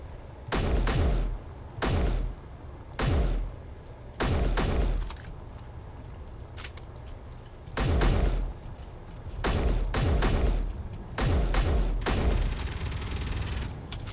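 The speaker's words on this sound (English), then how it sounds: "No, stop shooting our base!" Gunfire aimed at a base in Space Engineers, repeated bursts of rapid shots lasting about a second each with short gaps between, loud and close with a steady background hum.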